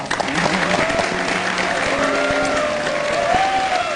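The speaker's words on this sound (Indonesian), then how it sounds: "Wah, tepuk tangan." Studio audience applause at a live Indonesian television talk show, steady dense clapping for about four seconds with crowd noise and some overlapping voices beneath it.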